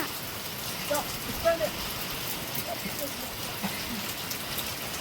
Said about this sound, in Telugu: ఉదయం రాత్రి నుంచి ఈ రాత్రి వరకు ఒకటే వాన